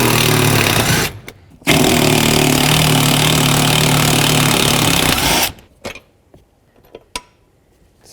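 Power tool driving out E16 seat bolts on a 2007 Chevy Silverado Classic: two loud sustained whirring bursts with a brief pause between, then quieter clinks and handling noises.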